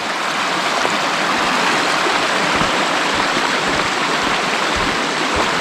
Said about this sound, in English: That's a nice little creek.